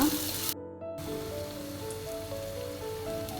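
Onion frying in a pan for a prawn curry gives a soft, steady hiss of sizzling oil, fairly faint and close, with a momentary dropout just after the start.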